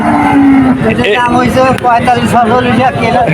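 Cattle low loudly at the Betaga cattle market, with a long deep moo rising over a busy crowd of talking voices and general market noise.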